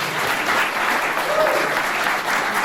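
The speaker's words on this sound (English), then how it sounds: "a round of applause for yourselves" A conference audience at a Sheffield Digital AGM claps in a steady, dense round of applause that fills the whole stretch at an even, fairly loud level, with no voices standing out.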